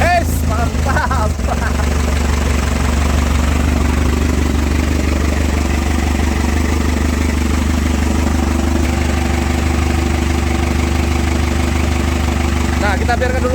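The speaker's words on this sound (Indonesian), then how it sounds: "kita biarkan dulu mesinnya nyala" A Chevrolet Captiva diesel engine idles steadily after being started up following two years unused, a loud continuous low rumble with some clatter at the start, while people talk nearby.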